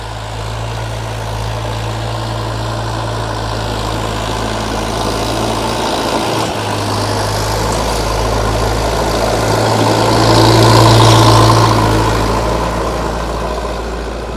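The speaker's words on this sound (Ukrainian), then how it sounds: "Чути, що трактор гуде трошки по-другому." A DTZ 5404 tractor pulling a plough across a field, its engine a steady loud low drone with constant rumble, swelling slightly louder toward the end, no talk over it.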